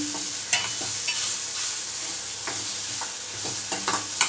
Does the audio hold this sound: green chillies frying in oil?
yes